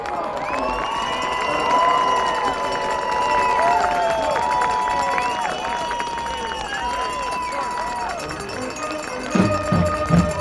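Crowd at a North Haven vs. Amity Thanksgiving high school football game cheers, shouts and claps, a busy mix of many voices over sustained applause that swells midway and stays lively, with children's shouts mixed in.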